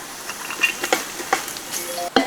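Mutton chukka being stirred in a pan with cashews, giving soft scraping and stirring taps over a light sizzle, with a louder clatter near the end.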